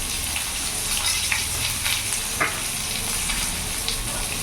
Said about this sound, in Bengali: মাছ আলুগুলো আমি একটু লাল লাল করে ভেজে নেব।